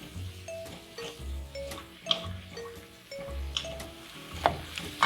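Callaloo with bacon is stirred in a pan, giving a gentle sizzle with intermittent light clinks and scrapes of a spoon against the metal, close and moderately quiet.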